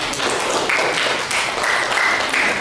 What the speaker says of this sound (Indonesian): Ibu minta kita berikan aplaus.